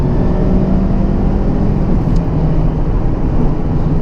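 A Mazda Miata being driven and shifted, with a loud, steady engine drone and road rumble filling the cabin, constant throughout with no break or talk.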